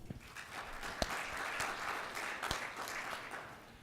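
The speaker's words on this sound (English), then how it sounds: "Can you give them a round of applause for their help?" Audience applause at an investment managers' forum: steady, sustained clapping from a crowd filling the room, moderately loud with a few sharper individual claps standing out.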